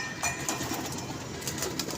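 Pigeons coo in soft, repeated rolling calls at close range, several birds overlapping with no talk.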